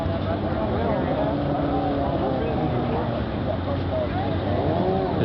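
A racing boat motor roars continuously at a race event, a steady, loud engine drone with wavering pitch that holds level throughout.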